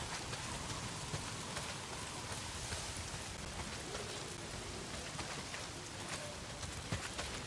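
Heavy rain pours down in the video game Days Gone, a dense, steady hiss of drops on surfaces that fills the scene evenly, with no voices.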